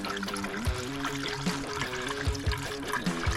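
Distilled water is poured into a Ford radiator cooling system, making a continuous gurgling trickle with bubbling, glugging pulses close by.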